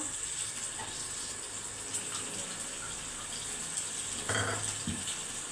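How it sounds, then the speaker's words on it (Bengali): Water pours steadily into a pan of paneer curry seasoned with turmeric, sugar, Kashmiri chilli and garam masala, a soft continuous trickle and gush with a brief louder splash near the end. "এবারে অল্প একটু জল দিয়ে দিচ্ছি।"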